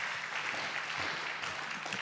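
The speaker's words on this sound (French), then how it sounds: "on les applaudit." Faint, distant clapping from a conference audience at an occupational health and safety colloquium, a soft steady patter of hands.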